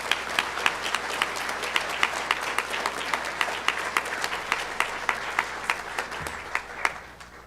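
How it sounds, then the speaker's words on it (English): A round of applause from an audience at a college honors night awards ceremony, steady clapping from many hands that carries on evenly before thinning out near the end. "Can we have a round of applause for our civic engagement honor?"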